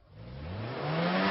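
A sudden vehicle braking screech played as a sound effect: a loud, close vehicle noise swelling steadily over about a second, with a rising tone and no talking.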